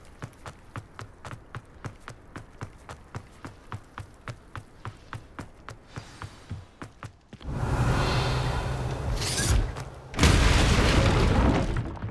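A Confringo blasting spell explodes in Hogwarts Legacy, a sudden loud burst of roaring noise after a steady run of rhythmic footfall-like thumps, followed by a second heavier blast that rumbles on to the end.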